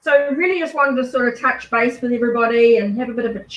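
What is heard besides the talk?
No everyday noise stands out behind the speech.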